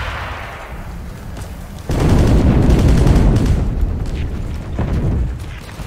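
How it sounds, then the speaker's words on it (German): Loud explosions in the World War II shooter Heroes & Generals: a quieter rumbling start gives way to a sudden heavy blast that roars and rolls on, followed by another thudding boom near the end, with no talking. "Oh wow, ich hör's nur explodiert."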